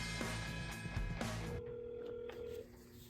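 A telephone call is placed to a customer line, with a steady electronic ring tone sounding for about a second after a brief burst of dialing and line noise, fairly quiet and without talk.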